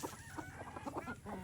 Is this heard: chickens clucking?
yes